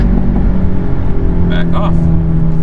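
A 2022 Hyundai Elantra N accelerating under boost, its engine a steady close drone with a brief higher whine partway through, heard loud from inside the car.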